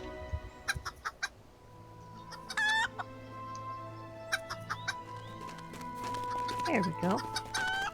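Chickens clucking and a rooster crowing in the LOTRO online game on the Landroval server, with repeated short clucks and a rising crow, over steady game music and ambience and a brief spoken remark.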